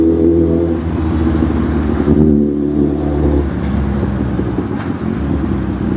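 A car engine hums and revs steadily while driving along the road, with a continuous mid-pitched drone that swells slightly partway through and no voices over it.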